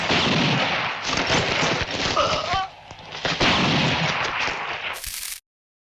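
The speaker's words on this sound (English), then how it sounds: "culminating in Lee Van Cleef's memorable, decisive shot" A decisive gunshot in a Western film showdown, with loud, dense cracks and booming reports that fill the scene, ending in one sharp, bright blast just before silence.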